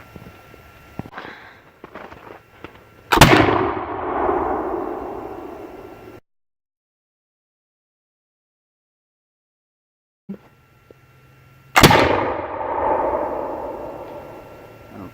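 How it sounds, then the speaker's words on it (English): Two loud, sharp shots from a Brown Bess flintlock musket loaded with standard round ball, each a sudden crack with a booming decay, separated by a stretch of silence, with faint handling and clicks before each. "We're going to take our second shot of standard round ball."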